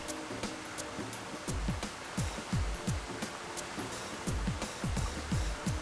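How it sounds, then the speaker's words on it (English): Water washing and lapping behind a person during a relaxing foam-roller stretch outdoors, a steady wash of surf with rhythmic swells rising and falling, fairly close and unaccompanied by talk. "Listen to the water behind me."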